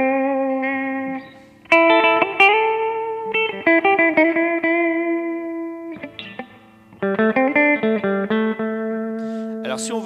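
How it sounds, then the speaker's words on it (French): Clean amplifier tone from a Boss GT Pro guitar effects processor, with chords and single notes played in phrases, ringing sustained with gaps between, close and fairly loud. "Là, on doit avoir un ampli et un son clair."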